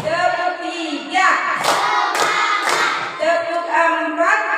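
A school class clapping in unison as a counted cheer, loud sharp claps in grouped bursts with rhythmic pauses between them, voices chanting along underneath.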